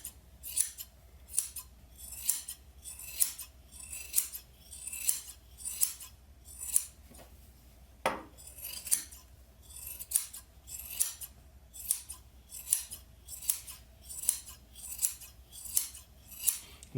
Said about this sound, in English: I'll just grab a pair of scissors and kind of hold them straight across it